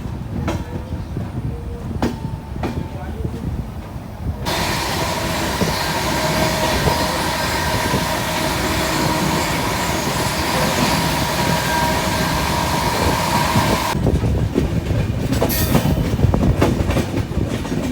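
The New Delhi–Dehradun Janshatabdi Express pulls into Roorkee railway station. After some scattered clicks, a loud, steady rumbling roar of the passing train lasts about ten seconds, then gives way to rhythmic wheel clatter and rattling, with no speech.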